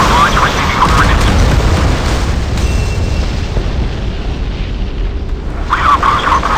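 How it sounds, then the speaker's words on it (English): A warship launches a missile in the Modern Warships naval video game, producing a heavy, continuous rumbling roar that fills the scene, swells near the start and again near the end, and stays loud throughout. "Missile silo ready for launch, receiving coordinates."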